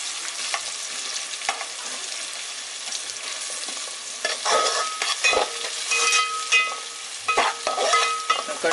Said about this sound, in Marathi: कांदा पहिले परतवून घ्यायचा आहे.